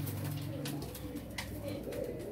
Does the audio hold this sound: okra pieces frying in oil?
no